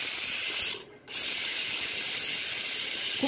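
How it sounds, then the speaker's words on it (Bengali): A pressure cooker holding paneer and potato curry vents steam in a loud, continuous hiss that dips briefly near the start and then keeps going. "দিয়ে এবার প্রেশারটাকে আমরা রিলিজ করে দিই"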